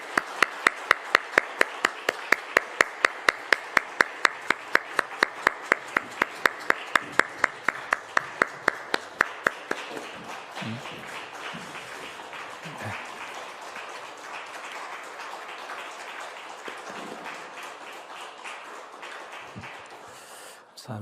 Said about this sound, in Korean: 우리 크게 한번 박수하겠습니다.